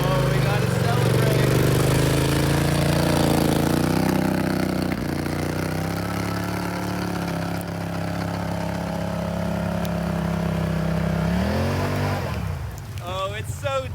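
A vehicle engine running after a cold start in a blizzard, a loud steady idle hum that shifts pitch as it revs near the end, with a voice talking over it.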